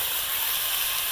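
Shredded cabbage sautéing in a pan with ground spices and sugar, giving a steady, loud, close sizzling hiss that runs unbroken through the whole moment.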